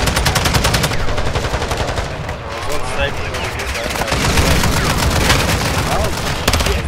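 Rapid automatic gunfire rattles almost nonstop in a 6v6 multiplayer shooter match at Hafid Port, loud dense bursts with occasional heavier booms layered over one another.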